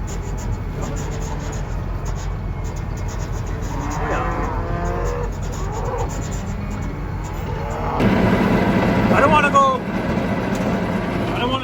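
Cattle in a winter field low with several moos over steady engine rumble, calls rising and falling in the middle, then a louder, noisier stretch near the end as a person talks.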